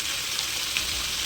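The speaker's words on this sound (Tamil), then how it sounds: "தக்காளி வதக்கி விட்டு இருக்கிறேங்க." Tomatoes sauté in oil with salt in a home kitchen, producing a soft, steady sizzle with a couple of faint pops over a short stretch.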